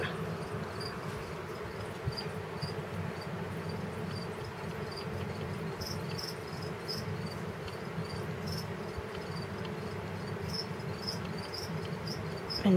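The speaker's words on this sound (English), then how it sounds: "Let me grab a cricket." Feeder crickets chirp steadily and continuously at close range, a dense high insect trill with a low background hum and no talk.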